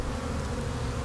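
A honeybee swarm caught in a backyard, hive comb nearby, buzzes as a dense, steady drone that holds at close range for the whole second with no voices.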